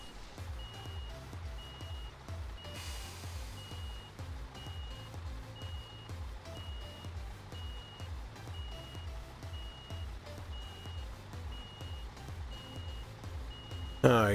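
Steady, evenly spaced reversing beeps from a truck backing in within Construction Simulator 2015, running throughout over a low engine rumble, with someone talking over them.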